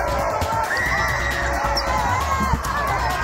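Home crowd at a Boston College vs. Florida State women's college basketball game roars steadily, a dense, continuous wash of cheering and shouting throughout.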